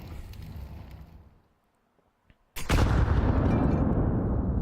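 Grenade blast and gunfire in a competitive video game match: loud sustained game combat at first, fading to near silence, then a sudden sharp explosion followed by dense, loud continuous firing.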